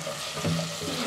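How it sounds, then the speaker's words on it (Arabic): Vegetables sauté in a pan with a steady, close hiss and sizzle, and one soft stirring movement can be heard in the middle. No one speaks. "تشويحه كده بسيطه. الخضار يبتدي كده يتجل."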